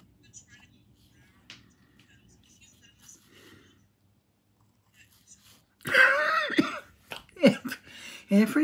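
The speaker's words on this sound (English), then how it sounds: "Every single video, I have coughed." A person coughs several times in a quiet indoor room during a drawing session, a short burst of close, harsh coughs after a long near-silent stretch with faint small movements.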